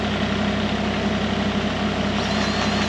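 A Kubota KX040-4 excavator's engine idles steadily nearby with its hydraulics locked out, a constant low diesel rumble that holds even throughout with no voices.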